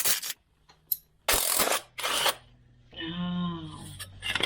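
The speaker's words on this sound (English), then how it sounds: "For better access, we remove this idler pulley assembly." A ratchet works on the idler pulley assembly of a Discovery 3 engine, giving three loud, close bursts of rapid clicking separated by short pauses, then a brief whirring, droning tone.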